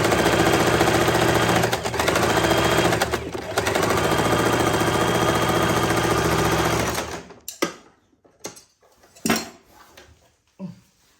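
A sewing machine stitching the neckline of a churidar runs in a loud, continuous mechanical whirr for about seven seconds with brief pauses, then stops and gives way to scattered handling clicks and rustles of fabric.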